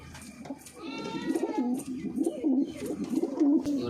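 Pigeons inside a loft give repeated low, throaty coos that rise and fall in a steady rhythm, close by and fairly soft.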